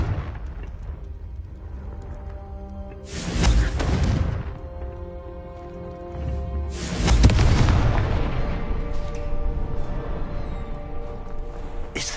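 Two heavy spell explosions from the Confringo spell in Hogwarts Legacy, each a loud booming blast with a long rumbling decay, the pair separated by a few seconds over quiet game ambience.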